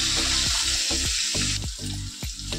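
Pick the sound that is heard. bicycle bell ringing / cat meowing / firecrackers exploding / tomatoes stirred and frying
tomatoes stirred and frying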